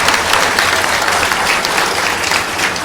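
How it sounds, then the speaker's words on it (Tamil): At a Tamil debate event, a large audience claps loudly and steadily, a dense, even roar of applause with no voices over it. "உங்களுடைய அருமையான கைதட்டலோடு அப்படி வச்சுக்கங்க."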